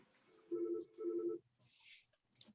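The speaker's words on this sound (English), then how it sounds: "the phone's ringing" An office telephone at a city council meeting rings in two short electronic bursts of rapid warbling tones, fairly faint, followed by a quiet stretch.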